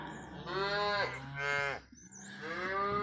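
A cow on a farm moos loudly and close in three long calls, a pause between the second and third, with no talk over them.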